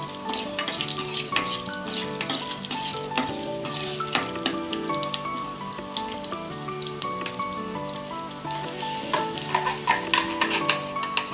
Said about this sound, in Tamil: இஞ்சி போட்டு நல்லா வதங்கின பிறகு இந்த டொமேட்டோ கிரேவியை இதில் ஊற்றிக்கணும்